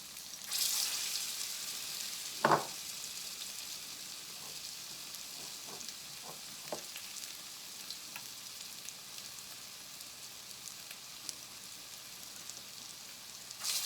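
Purple potato pancakes fry in hot oil, giving a steady, fairly quiet sizzle throughout with a few sharper crackles and pops, one louder spatter early on.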